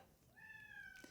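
A pet cat gives a single short, rising meow, faint and close in a quiet room.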